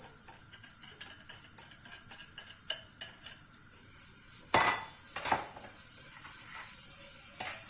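Eggs, sugar and milk being mixed in a bowl for a flan, with steady light clinks and taps of a whisk or utensil against the bowl, close by, followed by a couple of louder scraping knocks.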